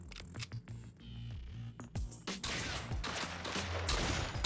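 Gunfire in the video game Fallen Earth, with rapid bursts and repeated shots layered over game sounds and background music, growing denser toward the end.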